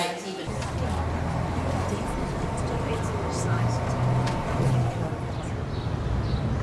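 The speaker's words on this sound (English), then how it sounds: "We're in the bus station in Logrono" Busy indoor bus station ambience in Logroño, Spain: a steady low rumble of idling buses under a murmur of distant voices and occasional clatter.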